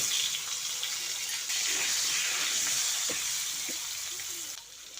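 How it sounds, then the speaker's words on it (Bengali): Cut potatoes frying in oil left over from frying rohu fish, a loud, steady, close sizzle with a bubbling hiss throughout and a few faint knocks. "ওই তেলের মধ্যেই কেটে রাখা আলুগুলো দিয়ে ভেজে নিচ্ছি"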